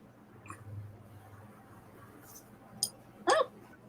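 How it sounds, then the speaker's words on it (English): Sudden hiccups from a person, two or three short sharp bursts spaced about half a second apart near the end, the last loudest, over a quiet room hum. "I have the hiccups."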